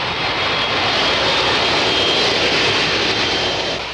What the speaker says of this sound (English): A plane lands every 45 seconds during peak times at Frankfurt Airport